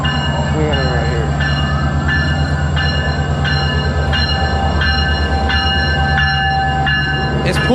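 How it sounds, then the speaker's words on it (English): Metrolink commuter train pulling into a station in Ontario, with a loud, steady low rumble of engine and rolling cars throughout, rhythmic clacks from the wheels, and a brief higher squeal near the end. "the hour later train, and it's pulling up"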